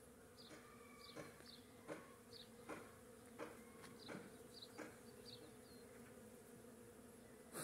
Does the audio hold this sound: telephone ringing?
no